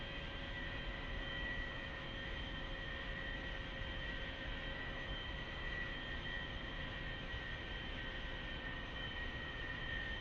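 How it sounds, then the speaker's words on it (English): An A-4E Skyhawk jet taxiing in the DCS World flight simulator, set in Blue Angels airshow practice, gives a steady, unbroken engine drone with a whining tonal hum and no talk. "taxiing in this thing has become second nature now"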